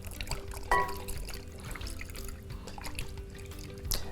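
Cleaning liquid drips and trickles off Honda GX carburetor parts as they are lifted from an ultrasonic cleaner, giving faint, sparse drops and splashes against a quiet background.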